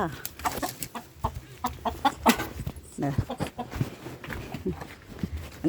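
Chickens cluck and squawk in quick, uneven bursts nearby, with a flurry of agitated calls throughout.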